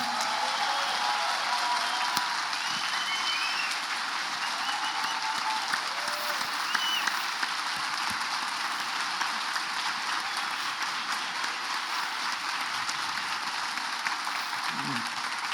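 Audience applause for an architect at the close of a podcast episode, a long, even roar of clapping that stays steady and fairly loud for over fifteen seconds, with faint voices and a few whoops underneath.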